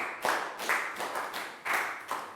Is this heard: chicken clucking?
no